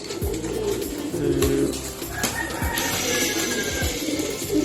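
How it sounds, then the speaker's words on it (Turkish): Ankara pigeons coo in low, repeated throaty pulses amid a busy outdoor backdrop with occasional higher chirps from other birds. "Şurada mesela kovalayan kuşlarım Ankara kuşları."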